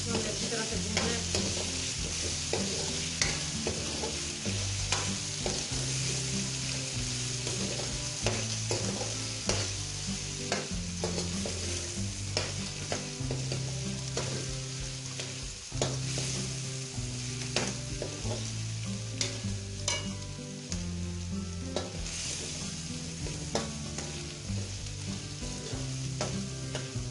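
Ginger-garlic paste frying and being stirred for Peshawari charsi chicken karahi, a loud continuous sizzle with constant scraping and clatter of a spoon in the pan throughout.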